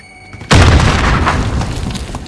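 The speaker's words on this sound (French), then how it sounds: "Je lance une grenade." A grenade goes off in Call of Duty Warzone on Rebirth Island, a sudden loud, close boom that breaks a quiet moment and then rumbles and crackles away as a long debris tail.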